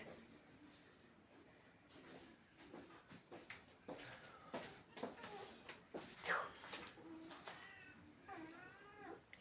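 A visiting cat gives several close, clear meows, including a drawn-out rising call near the end, while people talk quietly in the background of an indoor room.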